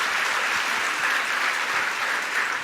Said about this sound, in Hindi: एक बार इनका आप सब लोग करतल ध्वनि से सम्मान कर दें